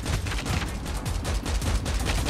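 Rapid automatic gunfire in the shooter game Call of Duty Mobile, dense overlapping bursts of shots crackling continuously and loudly with no talk.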